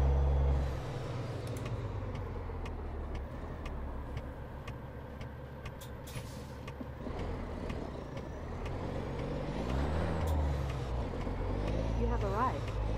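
A heavy truck engine drones and rumbles in American Truck Simulator, rising and falling with a faint ticking, while someone talks over it throughout.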